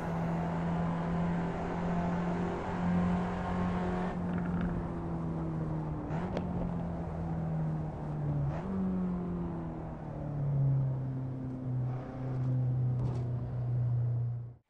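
An Alfa Romeo MiTo engine in the Assetto Corsa racing game hums steadily while driving, its pitch rising and dipping through several gear changes, moderately loud and alone.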